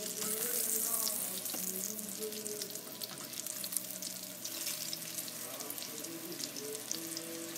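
Eggplant slices frying in oil, a dense continuous crackling sizzle close by and fairly quiet, steady throughout with faint clinks and shifting hiss.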